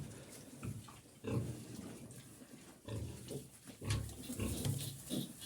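Piglets grunt in short, uneven bursts, with snuffling and shuffling noises between them; fairly close and soft.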